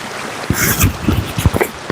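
Steady broadband rush of a river flowing past a riverside hangout area at Malino Hills, with a few sharper knocks and splashes over the continuous water noise, heard from the bank.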